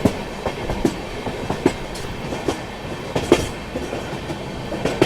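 A Mumbai local train runs past on a parallel track, its wheels giving a steady run of close, loud clickety-clack beats over a continuous rolling rumble, with no voices.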